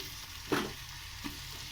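Chopped onion, ginger and tomato frying in a kadai, a soft continuous sizzle with a brief stirring scrape or two, close and fairly quiet.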